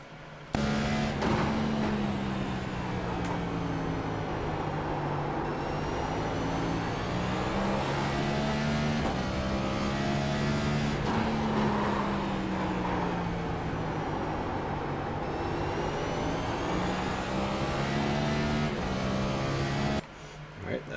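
A NextGen stock car laps Martinsville in the iRacing sim, its engine droning loud and steady throughout, pitch falling into the corners and climbing again on the straights in a repeating pattern, with a brief cut near the end.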